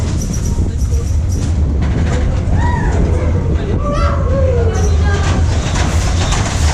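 El Diablo roller coaster train at PortAventura rolling into its brake run, a heavy low rumble with rising metallic squeals and hisses, heard over a murmuring crowd and nearby chatter.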